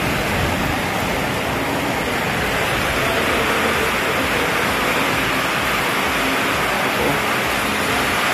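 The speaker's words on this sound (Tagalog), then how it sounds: "Lakas po ng ulan mga kalingap." Heavy rain pours down in a dense, constant roar of broadband hiss, loud and close, with no voices over it.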